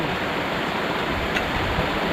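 Strong wind gusting across open farmland in the rainy season, a steady, full roar of rushing air close to the microphone with no break, no voices over it.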